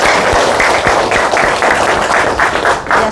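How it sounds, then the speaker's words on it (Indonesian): An audience at a safety driving seminar claps in a rhythmic, fairly loud burst for about three seconds, the individual claps blending into a steady patter. "sekali lagi tepuk tangan untuk RBPI dan SPI"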